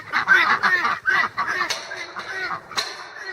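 Guinea fowl on a homestead call close and loud in a rapid run of harsh, repeated cackling notes, several birds overlapping with brief gaps, no talk.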